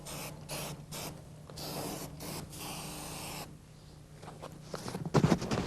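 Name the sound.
spraying primer over exposed metal on car body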